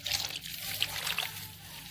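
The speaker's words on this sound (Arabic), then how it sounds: "وعليها مج مية،" A mug of water is poured over a tray of sliced sweet potatoes topped with sugar, a faint, steady trickle and splash running for about two seconds.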